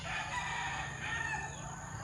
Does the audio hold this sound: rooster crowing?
yes